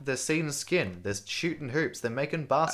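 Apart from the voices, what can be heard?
No everyday noises stand out.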